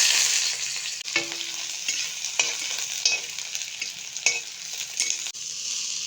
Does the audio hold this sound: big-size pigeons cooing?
no